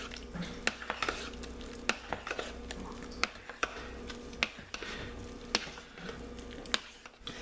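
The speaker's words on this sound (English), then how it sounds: "You want to stir till it gets back opaque." Hot process soap is stirred in a pot, with a utensil scraping and knocking against the sides in a steady, repeated rhythm of sharp clicks over a soft squishing churn, close by.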